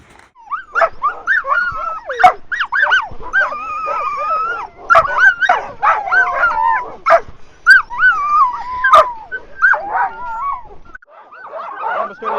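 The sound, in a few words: sled dogs barking on a glacier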